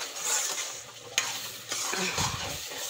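Spinach for a homestyle matar palak frying in hot oil in a pan, a steady close sizzle with crackling spatter, a sharp pop near the middle and utensil scraping later, no voices.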